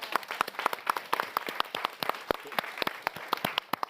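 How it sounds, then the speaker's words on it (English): A smaller audience applauding at a youth summit in London, distinct individual claps in a loose irregular patter, moderately close, with no talking over it. "Again, round of applause"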